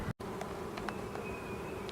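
Honey bees buzz steadily and close during a hive inspection as frames are handled and bees are shaken down, a dense continuous drone with a brief break near the start.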